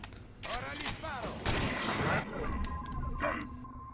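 Gunfire in the video game The Bureau: XCOM Declassified, several bursts of shots rising over the game's music and effects, with someone talking throughout.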